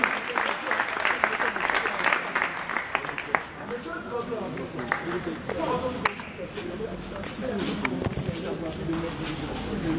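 An audience at a Congolese jiu-jitsu federation ceremony in Brazzaville applauds the president, loud clapping at first that thins and fades while a voice speaks over it.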